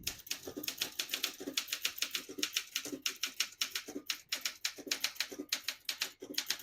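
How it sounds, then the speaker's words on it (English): Rapid, steady typing on a 1964 Olympia SM9 portable manual typewriter: a dense run of crisp, close key strikes in quick irregular rhythm, alone without talk. "I'll type a sentence on this next line."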